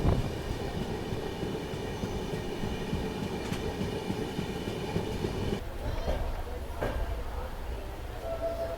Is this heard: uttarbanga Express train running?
yes